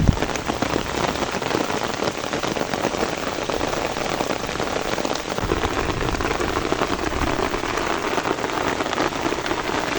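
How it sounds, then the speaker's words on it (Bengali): Downpour growing heavier at a fishing spot outdoors, thick unbroken patter of raindrops striking nearby surfaces, loud and even throughout. "তো বৃষ্টি খুবই বেড়ে যাচ্ছে।"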